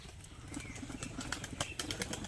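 A light biscuit-coloured male pigeon tumbling in flight, its wings giving a quick run of sharp flapping claps and rustles, close and moderately loud over a steady outdoor background with no talking.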